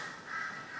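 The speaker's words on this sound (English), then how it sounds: "can you hear all the birds in the background?" A bird gives a single drawn-out, hoarse caw-like call outdoors, moderately distant and faint, with no voices.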